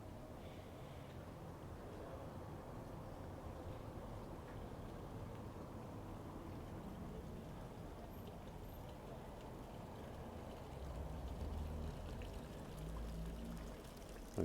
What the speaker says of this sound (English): We've got some running water there.